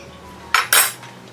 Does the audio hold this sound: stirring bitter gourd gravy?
yes